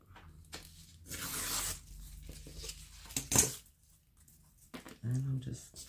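Paper trimmed for a junk journal made from altered window envelopes: a few short close rasping tearing and cutting sounds, separated by quiet gaps and brief rustles.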